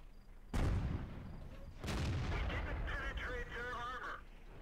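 Tank cannons firing in World of Tanks, with shells striking the front armor of a T26E4 Super Pershing: two loud booming blasts with long rumbling tails, followed by ringing impact and ricochet sounds.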